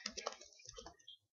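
Typing on a computer keyboard, a quick close run of light key clicks that trails off into silence.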